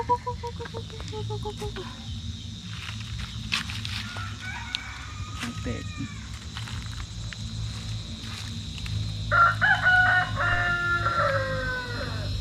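A rooster crows loudly in a rural village, with chickens clucking around it and a second crow near the end. A person says a word over steady background noise.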